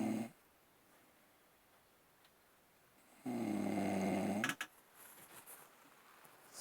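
Man snoring while asleep at a campsite: a short snore at the start, then quiet breathing and a long, loud, rasping snore mid-way, heard up close.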